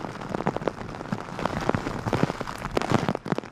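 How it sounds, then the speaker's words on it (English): Heavy rain driven sideways by 40 mph wind across a golf course in Bermuda, a dense continuous hiss with sharp spattering hits of drops, close and loud, with no voices. "40 miles an hour, raining sideways, these bands of rain that came across the island in Bermuda"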